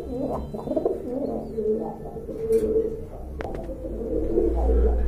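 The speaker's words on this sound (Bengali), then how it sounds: "এই যে দেখেন খুবই সুন্দর আর অনেক বড় সাইজের একটা কবুতর" A large fancy pigeon at a bird market coos in low, repeated throaty phrases, close and moderately loud, with faint background noise.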